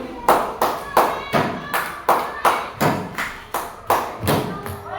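A class performs a rhythmic clapping pattern, about a dozen sharp, evenly spaced hand claps mixed with thumps on a desk, loud and close, in repeating groups.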